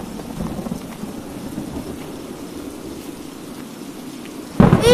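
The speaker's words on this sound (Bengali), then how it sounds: "এই ঝড় বৃষ্টিতে যদি আমাদের বাড়ি ভেঙে যায়" Heavy thunderstorm rain pours over a flood-threatened village as a steady, dense hiss, ending in a sudden loud thunder crack.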